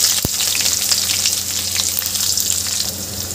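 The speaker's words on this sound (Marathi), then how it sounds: "आणि इथे आपल्याला बारीक चिरलेला कांदा घालून घ्यायचा आहे" Finely chopped onion frying in oil with a bay leaf, a loud, steady close-up sizzle with soft stirring scrapes and a single sharp knock of a utensil against the pan early on.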